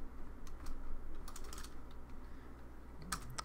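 Computer keyboard typing while coding in Python, scattered light key clicks and a quick burst near the end, close but quiet over a steady room hum.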